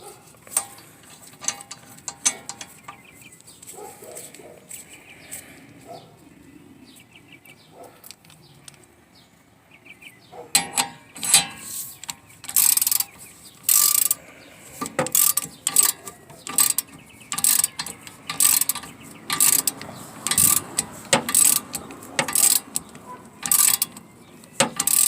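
A ratchet wrench loosens the castle nut on the outer tie rod of a 1988–91 Honda Civic, starting with sparse clicks and scrapes, then rapid bursts of close metallic ratcheting in repeated strokes.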